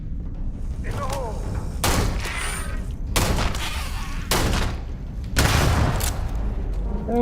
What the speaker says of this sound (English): Why are you throwing a grenade inside here?